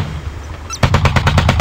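A rapid series of loud, booming naval cannon shots fires in quick succession after a short quiet lead-in, from a hovercraft warship in the game Modern Warships.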